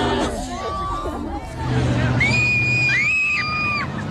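Young fans in a large crowd scream and shriek at a sold-out concert in the San Francisco Civic Auditorium, a dense roaring wall of high-pitched voices with babble underneath.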